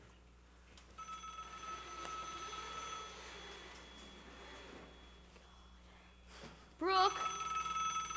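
Inside a stage performance of a spelling bee, a telephone rings faintly under background murmur and a spoken name, followed by a louder, sharper ring near the end.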